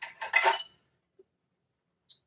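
Metal bar spoon clinking against glass while measuring cocktail ingredients: a soft scrape and rattle, then two faint, isolated clinks after silence.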